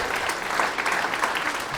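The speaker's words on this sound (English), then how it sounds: "Give them a round of applause." An audience at a comedy academy graduation show claps steadily in a dense, continuous burst of applause.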